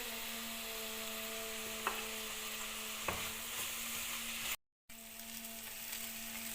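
Chopped onions sizzle steadily in ghee in a pan for jeera rice, a dense, even hiss with a few faint clicks and a brief dropout near the end.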